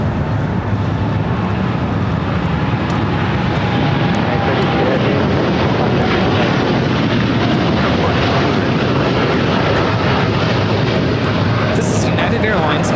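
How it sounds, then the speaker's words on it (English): A United Airlines Boeing 787-9 Dreamliner taking off from LAX, a loud, steady broadband jet roar with wind buffeting the microphone throughout. "This is United Airlines Flight 32 taking off to Tokyo Narita on the 787-9 Dreamliner"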